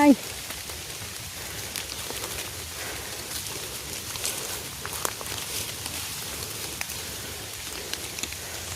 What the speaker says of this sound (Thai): ฝนตกสินะ